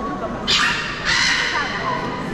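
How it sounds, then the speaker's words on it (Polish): Parrots in a palm-house exotarium in Sosnowiec give two harsh, raspy squawks in quick succession, loud and fairly close, over a busy background murmur. "Słyszycie papugi?"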